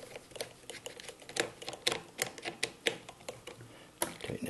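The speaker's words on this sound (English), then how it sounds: "Tighten that up so it's nice and snug." Small repeated clicks and taps come from refitting and tightening the carburetor air cleaner cover on a Jiffy 2-cycle engine. The sounds are light, uneven and close, with no talking.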